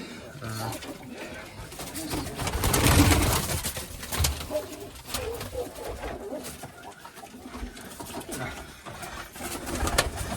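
Crested, shaggy-footed pigeons cooing in a loft, with soft murmuring coos and rustling scattered through the clip, peaking near the middle, amid low background noise.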